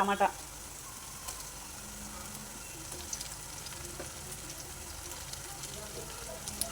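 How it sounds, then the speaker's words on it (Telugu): Chillies and onions soften in oil in a pan, a faint, even frying hiss that runs throughout after a brief louder knock at the start. "ఆయిల్లోనే మిర్చి ఆనియన్స్ వేసుకొని మగ్గించుకోవాలి"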